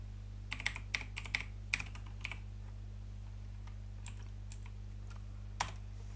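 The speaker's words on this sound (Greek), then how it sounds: "αυτό που μόλις ακούσατε να βαράει ήταν το πληκτρολόγιο της Razer, το Black Widow" Typing on a Razer BlackWidow computer keyboard produces scattered bursts of crisp mechanical key clicks, close and fairly quiet over a steady low hum, trailing off into a few isolated presses.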